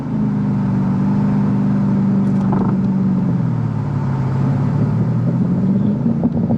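A 2000 Ford Mustang Saleen drives along and downshifts, its engine drone dipping in pitch and then rising again with a couple of faint clicks, all under steady road and cabin noise.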